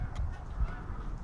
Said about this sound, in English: there's some geese in flight